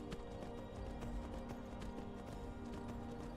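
Horse hooves clip-clop at a steady trot in the video game Skyrim, as a faint, continuous rhythmic clatter under an ambient game background, with no talk.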